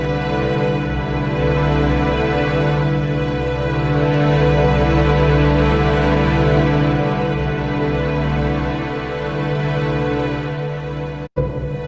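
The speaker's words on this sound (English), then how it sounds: "we've also translated it out to sound so that you can hear the data versus just see it." A sonification of Chandra X-ray Observatory data plays as a dense, steady synthesized drone of layered sustained tones, loud and continuous for about eleven seconds before a brief dropout, with no voices.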